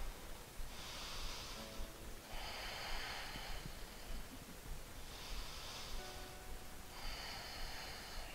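Slow, deep yoga breaths taken while seated with the heels drawn in, four long airy inhale-exhale cycles, close and soft, alone with no talking.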